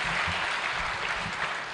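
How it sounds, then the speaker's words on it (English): Delegates at the Thabo Mbeki Africa Day Lecture give a loud, dense round of applause for Mbeki, continuous throughout with a low rumble of the hall underneath. "Distinguished delegates, let's give His Excellency Thabo Mbeki another big round of applause."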